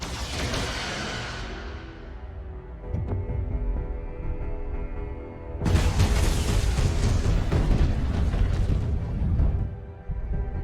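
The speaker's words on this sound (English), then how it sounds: "Firing photon torpedoes." Photon torpedoes firing and exploding in a Star Trek space battle: a whooshing launch fades out, followed by a deep rumble and then a loud, broad explosion that roars on for several seconds.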